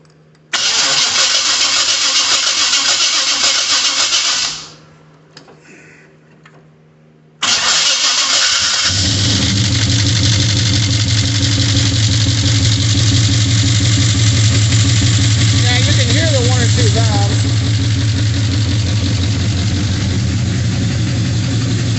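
An old 1972 Chevy pickup's engine cranks and catches, cuts out briefly, then restarts and settles into a loud, deep, throaty idle that runs steadily to the end.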